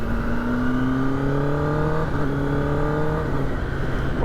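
A street motorcycle with a quick shifter revs and pulls through the gears, its engine note climbing in pitch, dropping briefly at a shift, then climbing again, loud and close without any talk.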